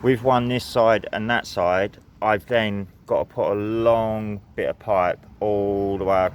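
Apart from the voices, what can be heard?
No everyday noise stands out behind the speech.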